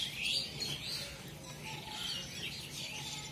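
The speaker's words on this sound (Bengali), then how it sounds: "আর কত সুন্দর পাখির ডাক ডাকছে দেখো" Birds sing in a village in the morning, with soft chirps and calls over a steady hiss of outdoor ambience; no talking.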